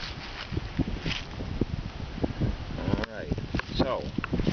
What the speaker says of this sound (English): it's windy as can be out here